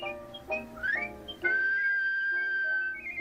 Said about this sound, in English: Let's start with a plain whistle